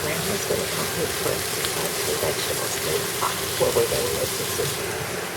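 Olive oil sizzles in a hot pan with a steady crackling hiss and a few brief stirring clicks, held close and even throughout, with no one speaking.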